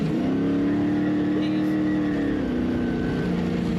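Onboard an Ultra4 off-road race car at Prairie City, the engine drones and revs steadily with a shifting pitch, loud and close, while commentators talk over it.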